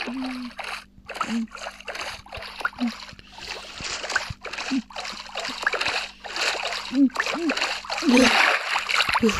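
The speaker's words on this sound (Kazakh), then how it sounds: "Тез жүзуім керек судың астымен" Swimming underwater in the Minecraft video game produces a run of short, repeated splashing and sloshing bursts in an irregular rhythm, heard alongside a person talking throughout.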